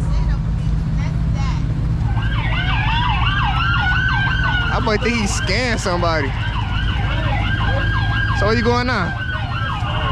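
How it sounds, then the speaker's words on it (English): A police siren wails with rising and falling sweeps, loud and close, while someone talks over the top of it during a late-night dirt bike ride. "Wanna put a police sirens on?"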